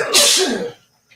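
A single sharp, close sneeze bursts out loudly and breathily, then trails off into silence, with a faint small noise just after.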